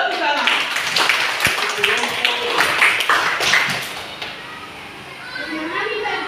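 A classroom of children claps together in a burst of quick, uneven hand claps, loud and close, with children's voices chattering and calling over the clapping before it fades into general room noise.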